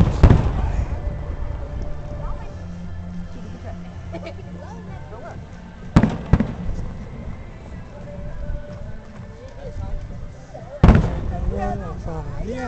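Fourth of July fireworks, 2012: sharp explosive bangs near 6 and 11 seconds over a steady crackling, rumbling background, with people talking and calling out throughout.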